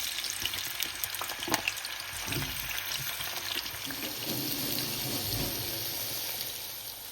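Lotus root fries in hot sesame oil in a pan, with a steady close sizzle and bubbling that holds evenly throughout, plus occasional soft stirring knocks and no talking.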